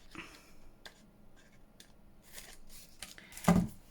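Scissors cutting around a paper shape for a junk journal fairy project, a few quiet snips spread across a near-silent room, with one louder crisp cut near the end.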